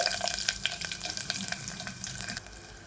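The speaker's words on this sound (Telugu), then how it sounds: "ఇప్పుడు నెయ్యి అనేది కరిగిపోయిన తర్వాత సన్నగా కట్ చేసి కొట్టుకున్న ఉల్లిపాయలు అయితే వేసుకోవాలి" Finely chopped onions fry in melted ghee for a ridge gourd curry, a dense steady crackle and sizzle close by with a few stirring scrapes, no speech.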